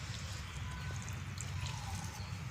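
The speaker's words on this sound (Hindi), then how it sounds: "इससे पानी डल जाएगा।" Steady stream of water tipped from a container over a newly sown, manured spinach patch, a continuous nearby pouring and trickling with no voices over it.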